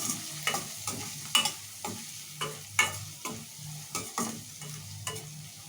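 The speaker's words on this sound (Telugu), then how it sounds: "వీటన్నిటిని బాగా ఫ్రై చేసుకుందాము మంచిగా" Soya chunks fry with turmeric and chili powder in a pan, a steady sizzle broken by repeated scraping stirs of a spoon at an uneven rhythm, close and alone with no talk.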